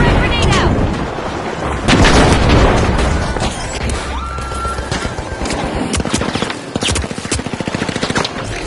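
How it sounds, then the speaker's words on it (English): Frag grenade explosion in a video game firefight: a loud blast around two seconds in amid ongoing rapid gunfire and booms, then fast machine-gun bursts near the end, with voices talking throughout. "Frag grenade out."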